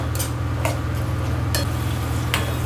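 Chicken pieces sautéing in a pan with a steady sizzle under a constant low hum, broken by a few sharp scrapes and clinks as a spoon stirs them.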